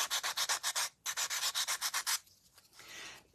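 Rhythmic scraping strokes of sanding, about a dozen quick back-and-forth passes in two bursts, close and crisp, followed by a softer brief rub.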